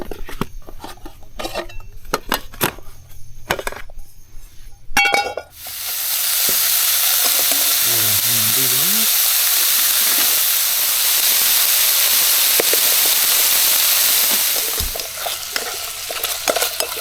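Onions dropped into a cast iron pan on a small gas-fired firebox stove, bursting into a loud steady sizzle and frying hiss that runs about nine seconds, preceded by clinks and handling sounds.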